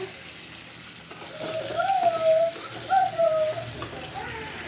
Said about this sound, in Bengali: এপাশে রান্নাও চলছে, এই যে আলু ভাজছি